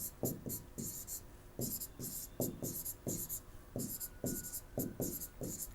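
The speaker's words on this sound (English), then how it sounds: "So we have to write down all these." A pen writes on a maths exam paper in quick rhythmic bursts of scratching strokes, close and clear, over a soft room hiss.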